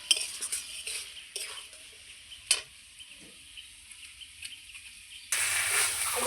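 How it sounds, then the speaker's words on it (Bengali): Chickpeas and potatoes are sautéed in a pan, a spatula knocking and scraping with a few sharp clinks over a low sizzle that swells louder near the end. "কাবলি ছোলা আলু খুব সুন্দর করে এইবার আমি আবারও একটু কষিয়ে নেব।"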